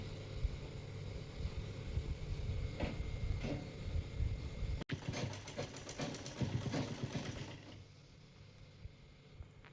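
A sewing machine stitches a blouse made from leftover fabric, a steady mechanical run near the microphone that picks up in speed halfway through, then eases off toward the end.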